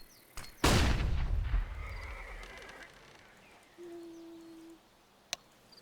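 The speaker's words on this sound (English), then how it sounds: "Throw in a flashbang." A flashbang grenade in Counter-Strike goes off with a sudden loud burst that booms and rings out over a second or two, followed by a faint whine and a sharp click near the end.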